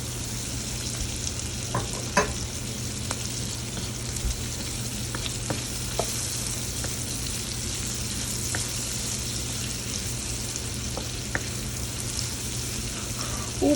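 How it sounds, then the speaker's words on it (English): Vegetables with hot Scotch bonnet pepper sauté in oil for a Sunday dinner, giving a steady, close sizzle broken by occasional light clicks and scrapes of stirring, with no talking. "Just saute everything."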